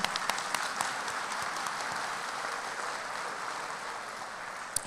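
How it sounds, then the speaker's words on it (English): Steady crowd applause fills a college commencement ceremony at Kishwaukee College, a dense, continuous clapping from a large audience that holds evenly for about five seconds with a few sharper claps standing out. "let's clap for them"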